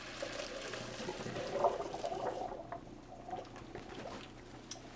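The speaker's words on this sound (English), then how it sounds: "You want to drain your water out of your green beans" Water is poured off a pot of cooked green beans, a splashing, trickling pour that swells then thins to a dribble, close and alone.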